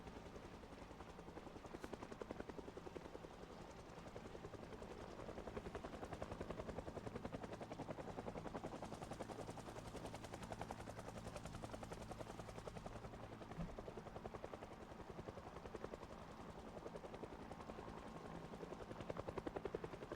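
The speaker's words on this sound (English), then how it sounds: "Oh, this stupid helicopter." Helicopter in the video game Project Zomboid, a steady loud rotor thump and engine drone running the whole stretch, swelling slightly as it passes overhead, with no one talking.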